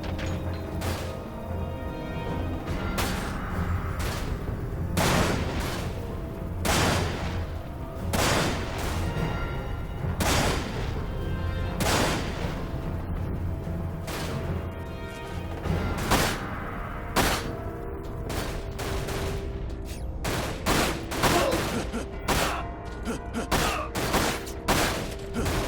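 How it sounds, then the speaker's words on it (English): Machine gun fire from Dirge of Cerberus: Final Fantasy VII, heard as repeated sharp bursts spaced a second or two apart and growing denser toward the end, loud and steady over a busy game backdrop. "The machine gun has actually some decent range at this point."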